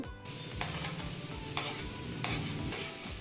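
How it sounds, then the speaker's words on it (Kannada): Finely chopped onion with beans, carrot and capsicum fries in oil for ragi soup, a soft, even sizzle broken by a few light stirs, fairly quiet with no voices. "ಈರುಳ್ಳಿ ಚೆನ್ನಾಗಿ ಎಣ್ಣೆಯಲ್ಲಿ ಫ್ರೈ ಆಗಲಿ"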